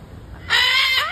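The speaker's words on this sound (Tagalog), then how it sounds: "Ang ingay ng mga ibon" A loud, shrill burst of squawking birds at the Cerro del Vigía lookout in Mazatlán, Mexico, erupts suddenly and holds for about half a second before trailing off.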